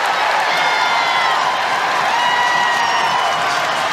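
Home fans at an NCAA women's basketball second-round game, Minnesota versus Missouri State, applauding and cheering in a dense, loud, continuous roar of clapping and voices filling the arena.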